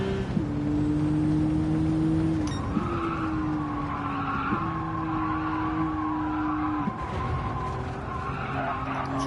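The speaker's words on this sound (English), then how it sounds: "Now we are sliding off the curb and running off the track." Gran Turismo 7 race car sliding off a curb at Spa or Tsukuba, a sustained loud tire squeal over a near engine whine that shifts pitch in steps, continuous and close, no speech.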